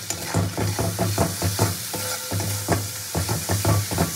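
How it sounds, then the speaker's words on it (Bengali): A spice masala for a prawn dish fries in oil with turmeric and two slit green chillies, its sizzle running under a steady rhythm of scraping stirring strokes from a spoon in the pan, close and fairly loud. "মশলা তো প্রায় কষা হয়ে এসেছে, মশলা থেকে দেখুন তেল ছাড়তে শুরু করেছে।"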